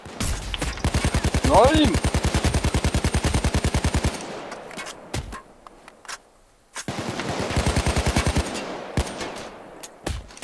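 Rapid automatic gunfire in PayDay 2 rattles in dense bursts, pauses briefly, then resumes with sharper single shots, while a voice shouts over it.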